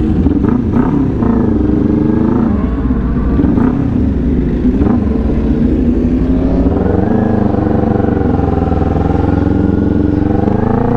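A 400cc motorcycle's engine and exhaust roar loud and close throughout a ride on rough city streets, with a steady drone and small shifts in revs.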